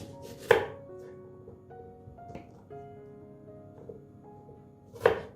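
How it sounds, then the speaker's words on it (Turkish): A knife chops through onion on a cutting board: two sharp, close strikes several seconds apart, with quiet kitchen rumble between. "şöyle yarım ay şeklinde doğrayabiliriz"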